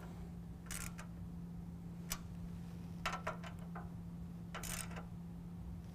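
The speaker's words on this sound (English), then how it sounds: "Now we're gonna take a 3/8 inch socket and tighten down our 5 lower brackets." Faint, sparse ratcheting clicks come in short bursts as a 3/8 inch socket tightens lower brackets on a 2017 Ford F-150 grille, set against a quiet steady hum with no talking.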